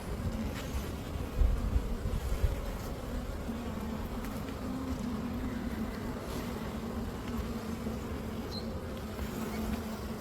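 Honey bees buzzing around an open hive during an inspection, a steady close hum layered with individual bees droning past, continuous and moderately loud with a few brief thumps early on.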